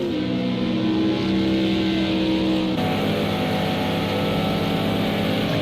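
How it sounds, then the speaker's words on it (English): Aston Martin and BMW M6 race cars in Project CARS 2 at the Nurburgring drone loudly through a sustained engine note, with a shift in pitch partway as they accelerate, and no talk over them. "I do like the sound of these two cars, the Aston and the M6."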